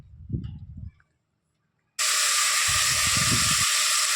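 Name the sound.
vegetables frying in oil for soybean pulao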